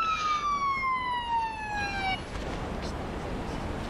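A wailing emergency siren sounds in the Police Simulator: Patrol Officers video game, a clear descending tone that cuts off after about two seconds, leaving background street ambience.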